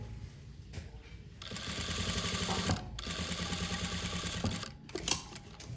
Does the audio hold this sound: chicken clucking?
no